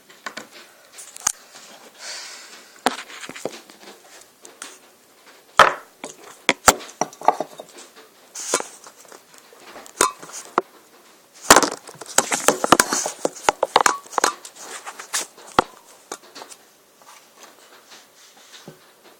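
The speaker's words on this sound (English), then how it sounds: "Everything's about to get smashed, my iPod." An iPod getting smashed to pieces, with repeated sharp cracks and crunching, splintering impacts coming in irregular bursts, some loud and close, others lighter, over a fairly quiet background.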